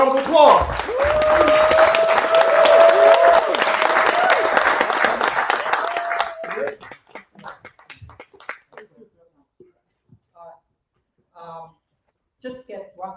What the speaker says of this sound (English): I want you to give him a great round of applause